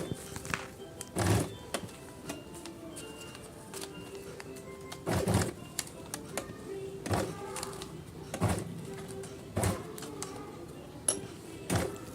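Electric sewing machine stitching pleats on a designer blouse, heard as short whirring bursts repeated through the passage, each a second or so long, separated by quieter pauses with a steady hum beneath.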